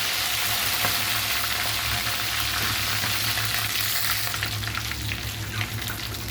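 Curry leaves, dried red chillies and tempering spices fry in oil in a clay pot, a dense close crackling sizzle with sharp pops that eases slightly toward the end, no voices.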